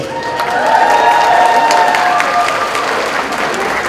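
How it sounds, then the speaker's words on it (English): A large audience claps steadily and loudly, with a few faint cheers mixed into the sustained applause. "One more round of applause for the young ladies, please."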